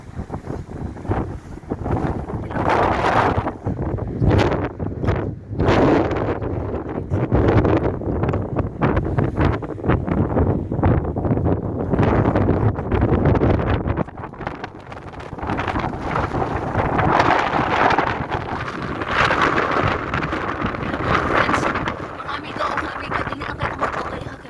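Strong snowstorm wind in Svalbard roars loud and steady, buffeting the microphone in gusts that swell and ease without letting up, while occasional voices talk faintly underneath.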